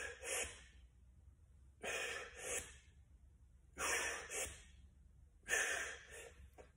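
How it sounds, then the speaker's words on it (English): Four bursts of heavy, forceful breathing exhale in a steady rhythm during a dumbbell piston press overhead, close and loud with short quiet pauses between, no talking. "I would be breathing."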